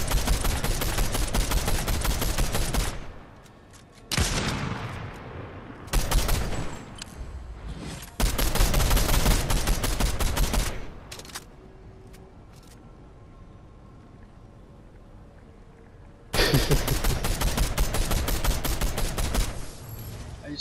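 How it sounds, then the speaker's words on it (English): Bursts of gunfire in the Fortnite video game, long loud fusillades of rapid shots broken by quiet stretches with a few scattered single shots. "They're just shooting down."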